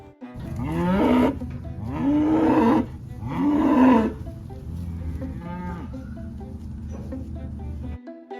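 Cattle, including an Angus-bred cow, moo on a farm, with three long, loud, close lows in a row, a fainter call after them, and a steady low hum underneath.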